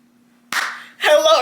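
Two sharp hand claps, each followed by a short ringing tail in a small quiet room, the second louder and denser, after a brief silence with a faint steady hum.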